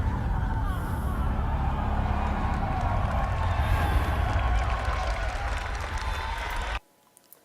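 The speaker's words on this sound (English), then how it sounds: "Listen to that crowd." A large crowd roars and cheers at the Resident Evil 2 remake reveal, a dense, loud sustained wall of voices and clapping that holds steady for several seconds, then cuts off abruptly to near silence.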